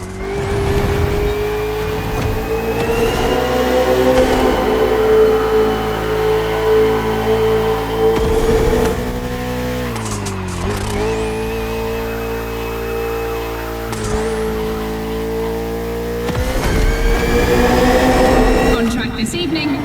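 A KTM RC16 and a Ferrari 488 GT3 race in The Crew Motorfest, loud high-revving engines climbing and dropping through gear shifts with a few sharp lifts, under steady talk from a commentator.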